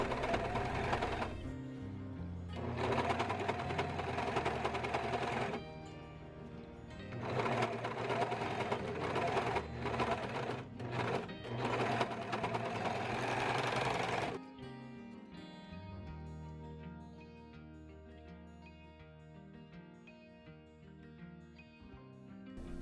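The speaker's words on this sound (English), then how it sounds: "Overlock the raw edges with the serger or zigzag stitches" A serger overlocks the raw fabric edges of a wrap blouse in three fast, buzzing runs, each a few seconds long, separated by short pauses. Background music plays under it and carries on alone after the stitching stops.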